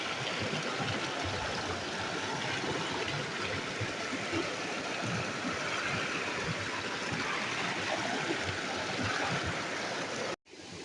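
A river flowing past trees, a steady broadband rush of water that stays even and close throughout before cutting off abruptly at the end.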